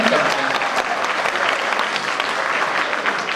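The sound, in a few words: audience applause at poetry recital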